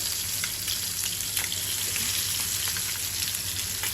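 Koi fish frying in hot oil, giving a dense, even sizzle that stays loud and unbroken the whole time, with no voices.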